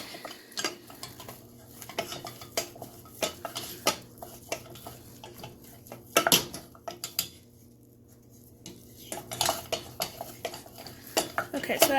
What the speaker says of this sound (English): you want to beat vigorously until it comes together into a ball